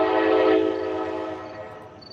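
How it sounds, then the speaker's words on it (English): A train passes close by at a fishing spot set between two railway tracks, giving a loud, steady rumble with a sustained horn-like tone at the start that slowly fades over about two seconds. "That train's behind me."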